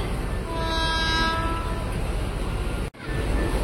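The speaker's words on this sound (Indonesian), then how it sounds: "Nah, ini dia masuk komuter tujuan stasiun Jakarta Kota" A KRL commuter train on the Bogor line rolls into Depok Baru station, bound for Jakarta Kota, with a loud, steady rumble, a drawn-out horn-like tone sounding as it approaches, close and dominant.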